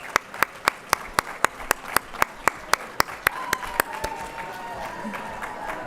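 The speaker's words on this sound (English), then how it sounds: "Let's give one more round of applause for all of our special guests." Audience applause for special guests at the 2024 New Jersey Ballot Bowl kickoff, a crowd clapping in a steady rhythmic beat, with one loud nearby clapper keeping time before it tapers off into murmuring.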